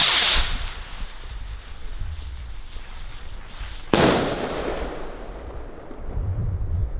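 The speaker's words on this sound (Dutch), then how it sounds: "de eindklapper van deze video" Consumer fireworks from Lidl and Zena going off as a finale: a dense crackling barrage with a sharp loud bang partway through, followed by a fizzing decay, outdoors and fairly close.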